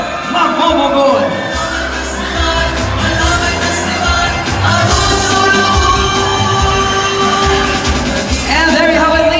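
Audience at the Lin-Ay Sang Kalamay 2025 coronation night pageant cheering and shouting for candidate number 5, a loud, sustained crowd roar with whoops and yells over music.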